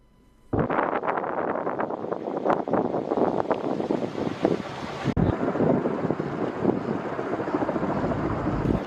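Strong, gusty storm wind in İçel, Turkey roars steadily and loudly across the microphone, buffeting it continuously with broadband rumble and no speech.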